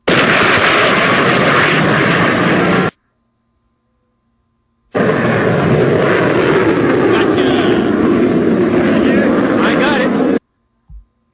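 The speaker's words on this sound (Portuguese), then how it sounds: "E o som característico dessa quebra da barreira do som." A jet airplane breaking the sound barrier produces a loud, harsh roar with a boom. The sound comes in two long bursts separated by a sudden silence and ends with a brief thump.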